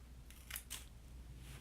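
Scissors snip through the stem of an indoor citronella plant, two quick crisp cuts close by, followed by quiet room hiss and no talk.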